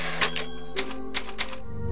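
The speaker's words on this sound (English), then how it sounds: "Was this a typewriter?" Typewriter keys in Resident Evil 4 strike in a sparse, uneven run of four or five crisp clacks over a steady low background hum.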